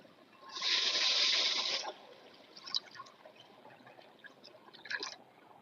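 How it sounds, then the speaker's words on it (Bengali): Water pours into a pan of spiced fish head curry in one loud gush lasting about a second, followed by quieter bubbling, clinks and a couple of brief splashes. "কষানো হয়ে গিয়েছে, এবার জল দিয়ে দিচ্ছি।"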